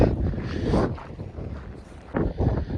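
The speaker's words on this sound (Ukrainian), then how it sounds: "бо просто вітер задуває конкретно" Strong gusty wind beside a lake in a park in Bucha, at minus 20 degrees, buffets the microphone in loud, rough bursts that rise and fall, with no speech.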